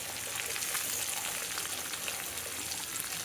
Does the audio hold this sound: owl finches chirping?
no